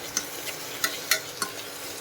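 Yogurt stirred into biryani masala in a pan: a steady hiss of frying with a few sharp, light clinks of the spoon against the metal, close and without voices.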